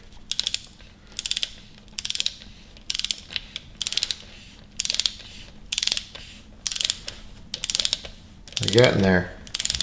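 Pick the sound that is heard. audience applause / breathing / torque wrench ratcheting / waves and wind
torque wrench ratcheting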